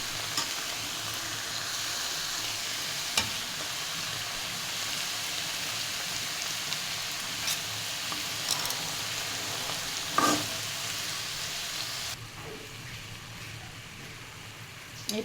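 Potato and dried fish chutney fries steadily in a pan on a stove, giving a dense, continuous sizzle with occasional sharp pops and stirring clatters; the frying softens slightly near the end as the flame is lowered.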